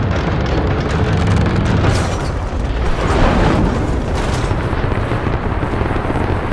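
A trebuchet fires in the video game Rise of the Tomb Raider, with a loud, dense rumbling boom swelling mid-way over a constant roar of game ambience.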